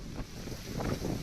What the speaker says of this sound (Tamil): ஆவடியில் சூறைக்காற்றுடன் கனமழை பெய்து வருகிறது.